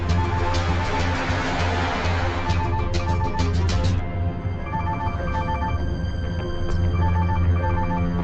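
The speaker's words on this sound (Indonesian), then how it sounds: "HP-ku terus berdering, bolehkah aku angkat?" A mobile phone rings again and again with a repeating electronic ringtone, loud and near. Dramatic background music plays under it throughout.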